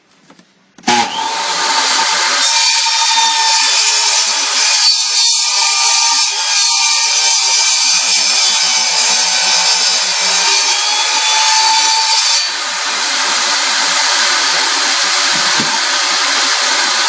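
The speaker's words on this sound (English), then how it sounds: "I use the table saw to make that cut" A table saw rips through a plank of laminate flooring, starting with a sudden loud whine that holds as a steady, harsh, continuous cutting roar for most of the clip.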